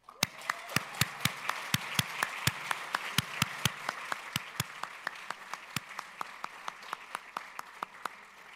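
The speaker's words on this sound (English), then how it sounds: "I'd like to give all of our summit finalists another round of applause" Scattered applause from a small audience at a 2018 closing ceremony, honoring summit finalists; sharp individual claps stand out over a soft wash of clapping and gradually thin toward the end.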